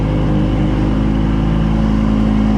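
A car engine idles and creeps forward steadily at low revs while driving onto a 4-car stacker trailer, a loud, close, even hum with no breaks.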